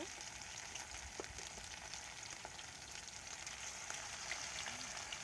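Pakoras fry in hot oil with a continuous crackling sizzle, a steady patter of tiny pops like light rain, close and even throughout.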